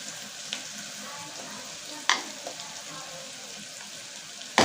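Green chillies sizzle and fry alongside chana dal in a pan, a steady crackling hiss throughout with a few sharp stirring clicks, and a louder scrape near the end.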